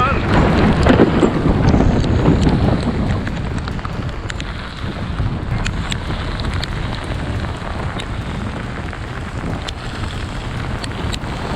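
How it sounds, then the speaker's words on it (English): Strong storm wind gusting up to 60 knots buffets and roars with a dense wash of heavy rain, loudest at first and then steady, with scattered sharp ticks and clatters. "generating gusts as strong as 60 knots and bringing heavy rain and lightning with it"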